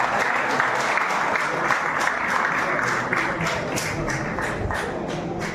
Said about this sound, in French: Veuillez applaudir pour Madame Asma.